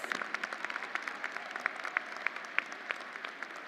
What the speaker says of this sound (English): Round of applause for their hard public service.